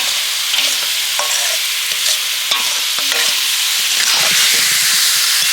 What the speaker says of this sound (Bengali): এবার কড়াইতে আমি এই জলপাইটা দিয়ে দিই